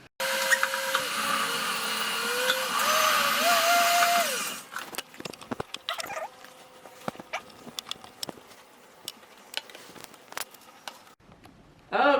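A food processor shreds hot peppers for a master tonic: a loud, steady motor whirr runs for about four seconds, then gives way to scattered clatter and clicks of handling.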